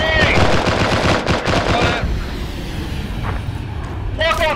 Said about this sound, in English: Hey, someone's shooting us now.